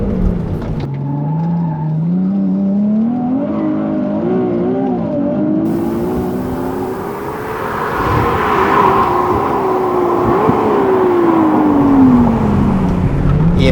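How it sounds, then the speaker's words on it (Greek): Ferrari 296 GTB accelerating hard at full throttle: a loud, close engine roar climbs in pitch through several gear changes, with swelling intensity toward the end. "μόνο η πράξη μπορεί να περιγράψει αυτό που βιώνεις πατώντας τέρμα τον γκάζι σε αυτό το αυτοκίνητο"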